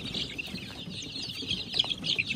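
A group of young Adler breed chicks, about sixteen days old, chirps in a continuous, busy chorus of high peeping calls, close by and moderately loud, with no talking.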